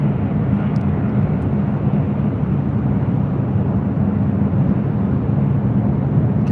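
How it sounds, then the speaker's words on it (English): Qatar Airways Airbus A350-1000 jet departing LAX, a loud, steady, broadband engine roar holding constant throughout with no voices. "Qatar Airways Flight 740 heading back to Doha, the A350-1000."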